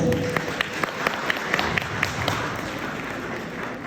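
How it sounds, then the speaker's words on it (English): Audience applause for performers at a Tibetan New Year cultural evening, with several sharp, closer claps standing out in a rough rhythm over a steady crowd wash. "We have a big round of applause for all our performers"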